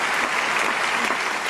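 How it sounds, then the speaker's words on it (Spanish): A Budapest audience applauds after a performance, with dense, steady clapping from a large crowd filling the whole stretch at full volume. "Esta es una audiencia en Budapest aplaudiendo luego de un espectáculo"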